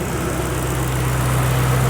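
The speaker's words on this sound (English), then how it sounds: "Listen to this engine." A Roush 427R track car's engine idles close by, a loud, low, steady rumble with an even hum that settles in and holds for the whole moment, no voices present.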